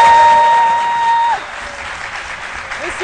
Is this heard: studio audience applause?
yes